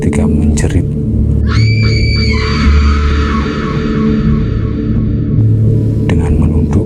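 A woman's scream in a horror audio story, a sustained shrill cry rising over a loud rumbling background bed, preceded and followed by brief sharp bursts.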